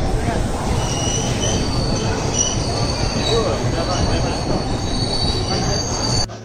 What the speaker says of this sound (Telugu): ట్రైన్ అయితే జస్ట్ అరైవ్డ్.